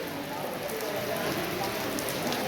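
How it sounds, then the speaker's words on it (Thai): Steady rain falls at a decorated event site in Vietnam, a dense even hiss of drops on surfaces running throughout, moderately loud with no clear voices on top. "มื้อนี้ก็มีฝนตกเด้"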